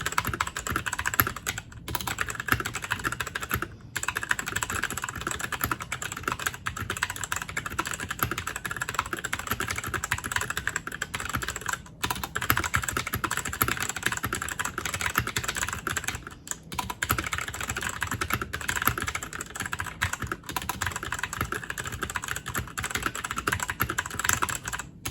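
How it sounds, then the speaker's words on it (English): A gold E-Element Z88 mechanical keyboard with brown switches is typed on continuously at close range, giving steady rapid key clicks with a few brief pauses. "let's do a 30-second type test to get a feel of how this keyboard performs."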